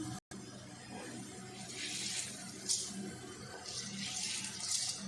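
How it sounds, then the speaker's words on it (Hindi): Rice being poured into a large pot of boiling water for Eid sweet rice, a soft rushing, watery pour in waves, with steady bubbling and swishing in the background. "चावल डालना शुरू कर देते हैं"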